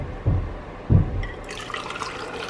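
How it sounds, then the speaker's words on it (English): Freshly boiled hot water is poured into a cup in two short, close splashing gushes, followed by a fainter trickle and settling liquid sounds, with no talking. "So first I'm gonna put some hot water in."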